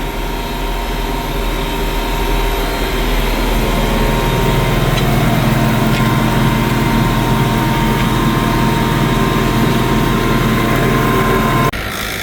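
A tractor engine runs steadily while drilling a rye cover crop in a food plot on drying ground, a constant loud rumble and whine with no letup, cutting out abruptly near the end.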